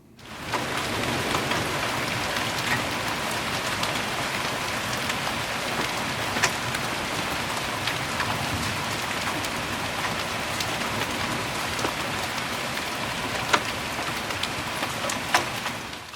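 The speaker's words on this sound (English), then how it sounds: "So you see we had hail" Hail falling outdoors, some stones golf ball size, a dense steady roar of pelting impacts with occasional sharper individual strikes standing out, no voices.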